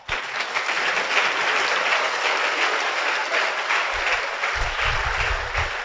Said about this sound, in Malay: Sila beri tepukan pada diri anda.